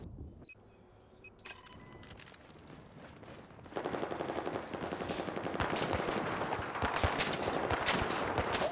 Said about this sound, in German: Ich werd beschossen